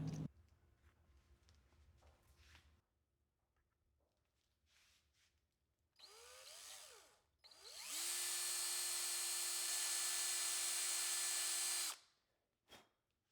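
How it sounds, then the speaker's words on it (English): A power drill drilling screw holes in a guitar build whirs in short bursts, then runs in one long steady high-pitched whine for several seconds before stopping, close by, with no talking. "I'll use this straight edge to drill all the holes in"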